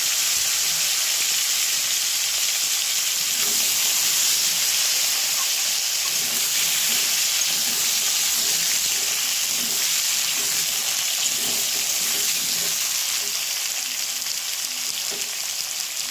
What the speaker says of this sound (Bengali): এখন আমি ওলকপি আর আলুটা ভেজে নেব